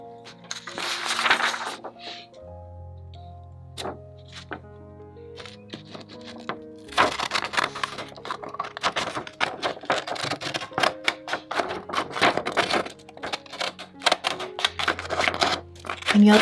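Decorative craft scissors snip a paper border for a prayer board scrapbook, making a series of soft, quick crisp cuts and paper rustles at close range, with a voice heard now and then.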